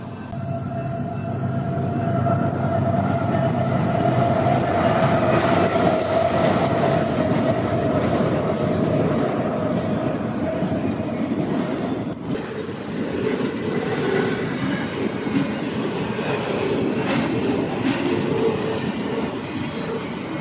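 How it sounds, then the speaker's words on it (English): Train roaring past near a bike ride, a loud steady rumble and rattle of rail cars holding for about twenty seconds with no talk over it. "So that's a train roaring by."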